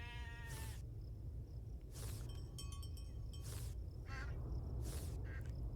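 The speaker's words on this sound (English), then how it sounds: "And then there's my little quacky quack ducks." Ducks on a farm in the video game Farm Together 2 quack about four times at an even pace, moderately loud over a low ambient hum and faint tinkling chimes, with no talking.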